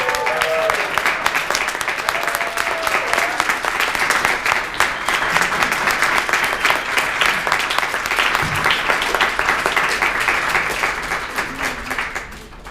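Wedding guests applauding newlyweds just declared married at a California ceremony, a loud, dense, sustained round of clapping from a crowd that holds steady for several seconds before tapering off, with a brief voice near the start.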